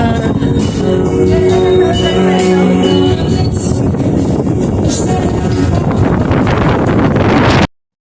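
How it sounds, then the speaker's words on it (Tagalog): Strong wind buffets the microphone in a loud, roaring rush at a skypad festival, with a faint live band and chatter underneath before it cuts off abruptly. "medyo malakas ang hangin. Kaya masakit pakinggan"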